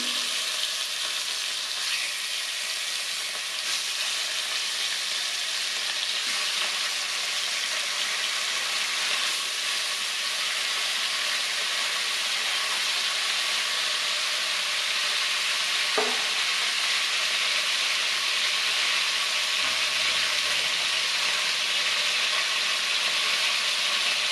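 Rohu fish pieces fry in hot oil in a wok, giving a steady, close crackling sizzle that runs unbroken throughout, with a few faint clinks and no talking.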